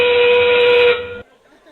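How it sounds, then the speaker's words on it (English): A loud, sustained train-whistle blast marking the endgame at a robotics league match, holding steady for about a second before cutting off abruptly into quiet arena background. "As that train whistle sounds"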